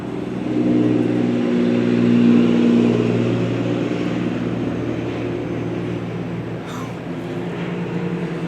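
Three second-generation Cummins diesel engines idle nearby, a steady low droning rumble with a faint swell in the first seconds and a brief higher sound near the end, no voices over it.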